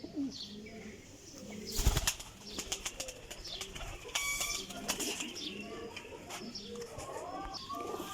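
Golden teddy-type flying pigeons coo in low murmuring phrases from close range, broken by sharp bursts of wing flapping and clatter, with ambient loft noise throughout.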